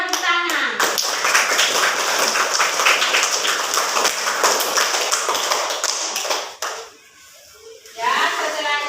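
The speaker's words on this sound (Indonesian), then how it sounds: "Tepuk tangan" A classroom of students breaks into loud, dense hand clapping for several seconds after group results are announced, then the applause stops briefly before a few claps resume.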